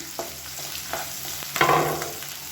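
Chopped onion and garlic fry in hot oil with a steady close sizzle, while a spoon scrapes and stirs through the pan in a few soft clinks and one louder burst of frying.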